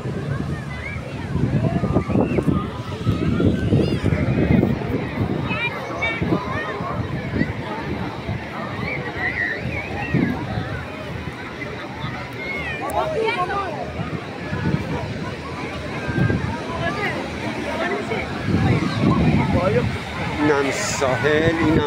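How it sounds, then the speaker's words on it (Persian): Sea waves surge and wash onto the beach at Babolsar in repeated swells of broadband rushing noise, with people talking and a background hubbub of beachgoers throughout. "اینم ساحل، اینم دریا"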